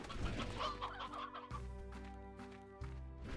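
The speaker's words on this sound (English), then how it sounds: "Come on, chickens." Chickens clucking in the video game Slime Rancher, short repeated clucks over a steady musical backdrop, fairly quiet.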